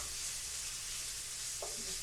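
Shrimp stir-frying in a pan for shrimp fried rice, a steady close sizzle with a brief scrape as the pieces are tossed around.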